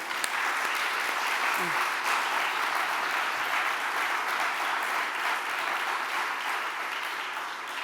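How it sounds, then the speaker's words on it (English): An audience at a youth leadership prize ceremony applauds the ten finalists, a dense, steady roar of many hands clapping that fills the hall evenly and continuously from start to finish. "give a resounding round of applause to all these 10 finalists, amazing young people"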